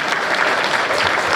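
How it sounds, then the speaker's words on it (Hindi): Audience applause at a Hindi poetry event, dense and loud, a steady wash of many hands clapping close up with no voices over it. "उन्नति भारद्वाज के लिए पुनः तालियां बजाएं।"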